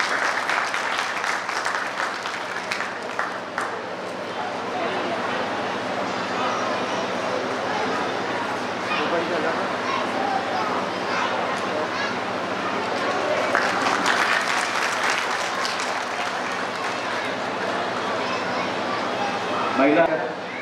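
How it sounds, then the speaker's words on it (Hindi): An audience at a Shankaracharya Jayanti festival applauds with sustained, dense clapping for about twenty seconds, loud and close, swelling briefly before fading at the end. "तो थोड़ी तालियां बजा दीजिए।"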